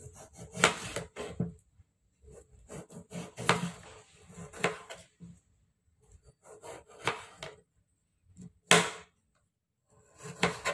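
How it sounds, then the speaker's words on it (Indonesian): Skin being peeled off an aloe vera leaf: intermittent close rasping, scraping strokes in short bursts separated by near-silent pauses. "kemudian lidah buaya ini kita kupas kulitnya"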